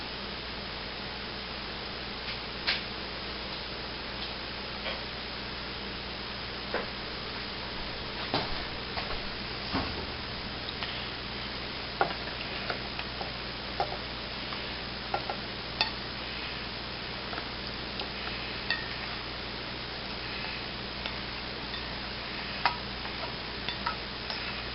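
Dry macaroni is stirred into a pot for mac and cheese with scattered ticks and scrapes over a steady low hiss. The faint, irregular clicks come from a spoon moving through the pasta, with no talk.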